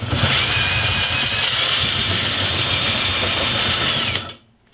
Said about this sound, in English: you can hear already it's kind of strimming the inside of that flue pipe